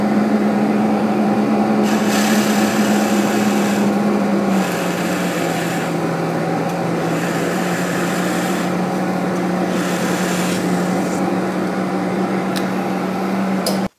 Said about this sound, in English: let me show you the difference when we drill into medite